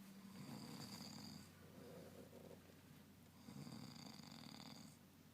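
A man snores in slow, deep cycles: two long rasping inhales separated by a quieter exhale, faint and steady with no talk.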